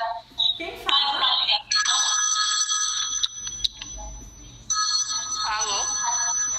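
A telephone rings with an incoming call during a live game show broadcast, its bright trilling bursts repeating several times, loud and close, with background chatter in between.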